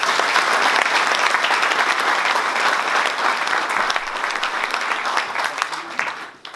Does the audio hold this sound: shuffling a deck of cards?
no